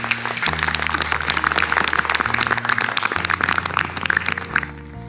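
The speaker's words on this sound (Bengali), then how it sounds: "একটা জোরে করতালি চাই" Loud, sustained applause from a cooking competition studio audience, dense continuous clapping with music underneath that fades near the end.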